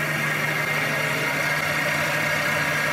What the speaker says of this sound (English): just speed up the lathe